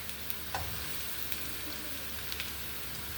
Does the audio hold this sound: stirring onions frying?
yes